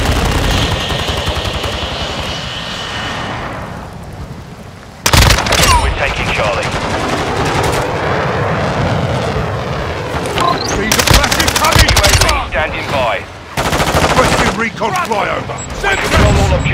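Call of Duty: Modern Warfare II multiplayer Domination on the Lighthouse map: sustained automatic gunfire with dense bursts and sharp loud shots, some close and some further off, running throughout with brief lulls and radio-style voice callouts mixed in.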